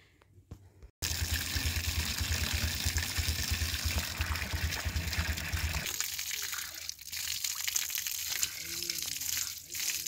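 Water pours and splashes from village water tanks at a desert settlement, a steady loud gush that cuts off after a few seconds, leaving quieter outdoor ambience.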